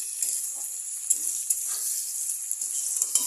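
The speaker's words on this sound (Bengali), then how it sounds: "দেখো বিনসগুলো প্রায় অনেকটাই ভাজা ভাজা হয়ে এসছে।" Green beans fry in a pan with a steady, bright sizzle and occasional soft stirring clicks, close and continuous with no talking.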